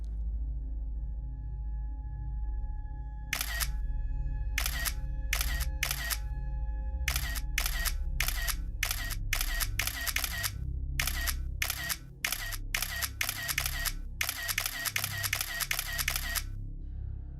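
Rapid camera shutter clicks snap off in bursts while a selfie is taken, a dense series of sharp, near, crisp clicks over a low steady hum, some in quick runs and others spaced apart.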